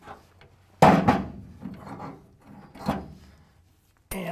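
A retaining clip on a Ford rear axle brake line is pried loose with a tool: sharp scraping and clicking bursts, with a few loud metallic snaps and rubbing between them, close up.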